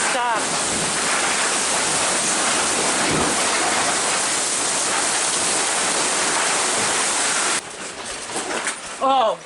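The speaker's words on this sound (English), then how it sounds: "the waves will not stop" Storm-driven waves on Lake Lanier, Georgia, during a micro-burst: loud, continuous roaring wash of water and wind that fills the scene, breaking up near the end with sharper splashes and knocking sounds.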